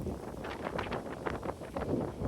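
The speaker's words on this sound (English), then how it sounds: "It's a really windy day, if you can't tell." Wind on a warm, windy November day rushes and buffets against the microphone in steady, moderately faint gusts, with no voices.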